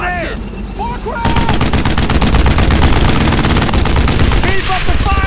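Sustained, loud machine gun fire rattles in the World War II shooter Brothers in Arms: Road to Hill 30, rapid bursts layered over battle noise while soldiers shout orders.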